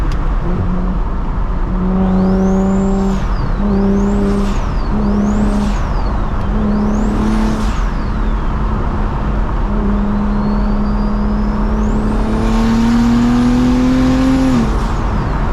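BMW 335i engine revving through repeated downshifts and hard acceleration, loud and close with rising and falling pitch sweeps, several blips in a row then a long pull, no talk.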